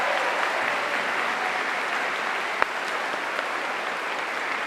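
Graduation audience at an honorary degree ceremony applauding steadily, a dense, even wash of many hands clapping that holds at a constant level throughout, with no voices over it.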